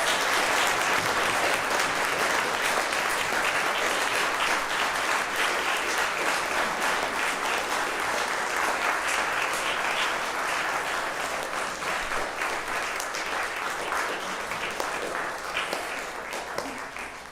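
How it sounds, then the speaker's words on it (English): Congregation at a Friday night Kabbalat Shabbat synagogue service giving a long round of applause, thick continuous clapping filling the room at steady strength and easing slightly toward the end. "Please join me in a round of applause and thanks for Gianna's many years of service."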